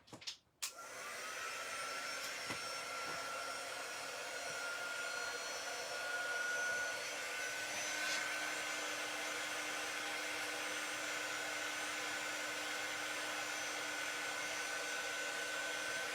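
Heat gun or hair-dryer-style blower drying chalk paste on a Chalk Couture transfer, a steady, fairly loud whirring hiss that starts abruptly and runs unbroken throughout.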